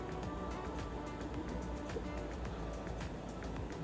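A steady, loud motor hum with broadband whooshing noise fills the space continuously, like a car's air conditioning running with the engine on.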